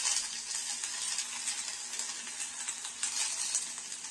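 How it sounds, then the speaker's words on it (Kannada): Masala of coriander, small onions and grated coconut frying in a pan gives a steady, soft sizzle with faint stirring scrapes, heard alone and close. "ಮಸಾಲೆ ಎಲ್ಲ ಈ ತರ ಚೆನ್ನಾಗಿ ಫ್ರೈ ಮಾಡ್ಕೋಬೇಕು"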